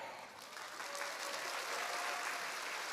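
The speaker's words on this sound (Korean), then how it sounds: "계속해서 큰 박수로 함께 해주시기를 바랍니다" A church congregation applauds at a Sunday service celebration, a dense, steady wash of clapping that swells slightly and continues at moderate volume from a roomful of people.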